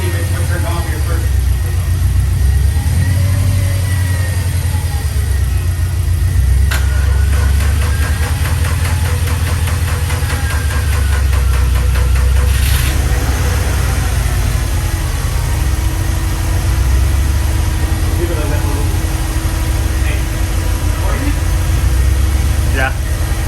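A Subaru STI engine runs steadily close by, a loud continuous rumble with some rattling and a brief rev partway through, while people talk over it.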